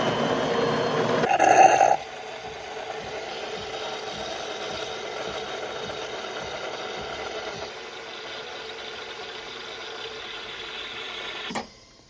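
De'Longhi Magnifica Start espresso machine making a cappuccino and frothing milk, with a brief loud hiss burst near the start followed by a steady mechanical whirring hum with faint ticking, ending in a short click.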